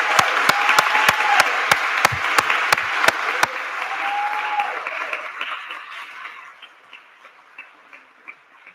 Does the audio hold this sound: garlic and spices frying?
no